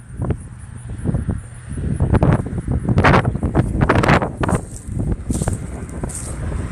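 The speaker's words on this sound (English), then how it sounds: "Super windy today. Lots of wind out here." Steady broadband wind roar buffets the microphone, surging louder in gusts through the middle, with faint rustling underneath.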